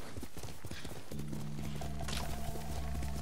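Horse hooves clip-clop steadily in Ghost of Tsushima, a feudal Japan samurai game, the rhythmic trotting loud and close with a sustained musical drone rising behind it partway through.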